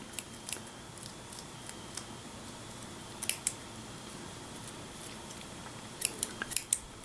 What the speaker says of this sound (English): Snip that off.